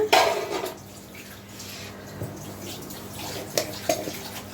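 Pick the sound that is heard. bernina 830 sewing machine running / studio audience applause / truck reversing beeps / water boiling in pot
water boiling in pot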